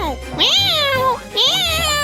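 A cat meows twice in quick succession in a comedy sketch about pets, loud and close, with rising and falling drawn-out cries over background music.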